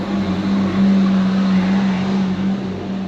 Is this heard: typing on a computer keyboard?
no